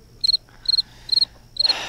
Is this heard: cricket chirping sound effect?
yes